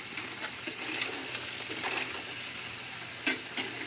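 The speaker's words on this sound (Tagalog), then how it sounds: "Bigisa muna natin yan." Ingredients sauté in a frying pan with a soft continuous sizzle, broken by a few sharp clinks of a utensil against the pan, fairly close and fairly quiet, with no talking.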